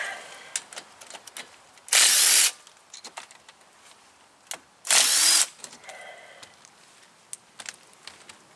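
A power tool, most likely an impact gun, removing the 14mm brake caliper bolts on a 2015 Toyota RAV4 fires two loud, sustained half-second bursts. Scattered clicks and clanks of tools and metal parts fill the space between them.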